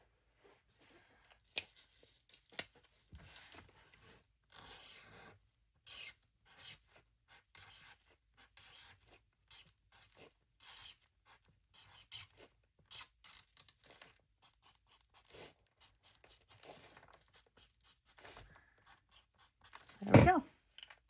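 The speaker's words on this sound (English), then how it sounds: "So we're going to go ahead and write it" Pen writing on paper, a word being written out by hand: quiet intermittent scratching strokes in short bursts, close and faint, with a louder rustle or handling noise near the end.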